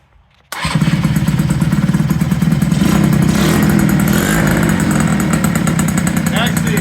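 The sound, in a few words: Yamaha CV80 80cc scooter engine starting and running with new exhaust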